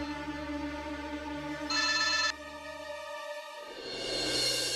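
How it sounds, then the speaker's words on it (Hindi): A telephone rings in a television drama scene, a loud electronic ring tone bursting out briefly over a sustained background music bed, with no talking during the ring. "किसका फोन है तपोव्रत?"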